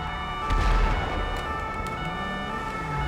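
Police car sirens wail continuously in a video game car chase after a stolen police car, loud and steady over engine and road noise, with no talking.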